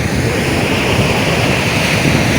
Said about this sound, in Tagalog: Ang hangin. Taas nga.